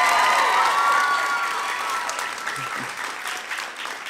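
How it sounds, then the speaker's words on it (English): A comedy show audience bursts into loud applause for the cameraman, dense clapping with some crowd murmur that gradually tapers off over a few seconds. "Let's give him a big round of applause."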